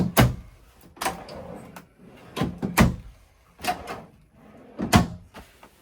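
Several sharp wooden clunks and slides of pull-out drawers in a Holiday Rambler motorhome being opened and pushed shut, spaced about a second apart in a quiet room.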